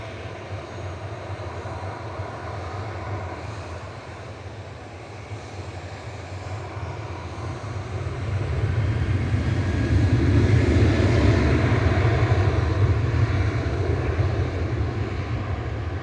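A TUI aircraft departs Manchester Airport, a low distant engine rumble that stays steady at first, then swells louder and rougher partway through before holding near its peak, with no voices.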